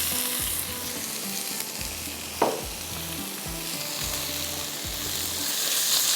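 Spice masala fries and sizzles loudly in a hot pan, a steady dense hiss close by with occasional stirring scrapes and one sharp clink partway through, no voices.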